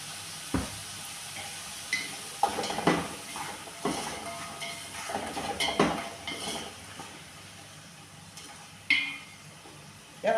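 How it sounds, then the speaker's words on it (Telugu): Food fries in a pan while chicken mandi is cooked, with a soft sizzle under intermittent clanks and scrapes of a utensil stirring against the pan. "ఇలా అయితే 10 నిమిషాలు అయితే ఫ్రై అవ్వాలి"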